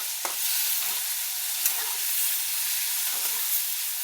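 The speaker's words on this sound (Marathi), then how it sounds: "कांदा भाजत आलाय आपला." Onion and tomato fry in a pan with a steady, close sizzle, broken by a few soft stirring scrapes.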